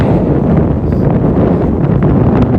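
Strong mountain gusts of 35 to 60 miles per hour batter the microphone outdoors on a climb up the M near Bozeman, Montana, a loud continuous roar of buffeting with no pause.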